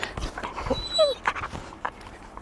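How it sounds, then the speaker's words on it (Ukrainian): A dog lets out a few faint, high whimpers among soft panting breaths, heard close but quiet. "Це моя пес-доця Фурія."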